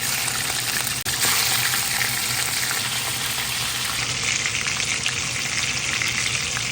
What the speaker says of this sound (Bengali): মাছটাকে ভেজে নিব, এজন্য আমি নিয়েছি সরিষার তেল